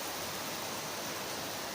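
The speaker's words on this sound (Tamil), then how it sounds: "சென்னையில் வேலைச்சேரியில் இப்போ மழை நல்லா பெஞ்சின்னு இருக்கு." Heavy summer rain pours down in Velachery, Chennai, as a dense, steady hiss that stays even and unbroken from start to finish, with no voices.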